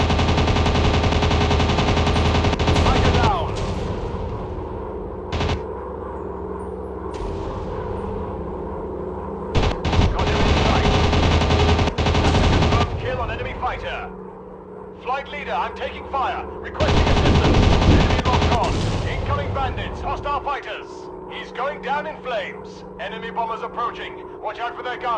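Machine guns on WW2 fighter planes fire in long, loud rattling bursts during a mobile game dogfight, with repeated volleys over a constant engine drone while a voice talks over the action.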